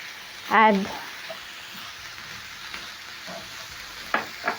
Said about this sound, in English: Stir in the tomatoes and add tomato paste